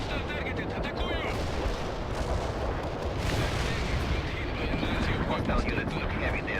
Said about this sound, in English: Artillery is lined up. Firing.